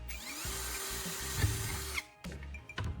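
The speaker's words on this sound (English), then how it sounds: "Take a drill and make a hole right in the center." A power drill bores a hole through the metal lid of a glass jar, a steady whirring drone that stops near the two-second mark and then starts again in short bursts, close up with no talking.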